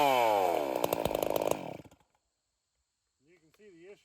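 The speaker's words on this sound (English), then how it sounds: "You can see the issue with it not restarting." A nitromethane-fuelled chainsaw roars loudly at close range for about two seconds with a rough, pulsing note, then cuts out into silence, failing to restart; a voice speaks briefly near the end.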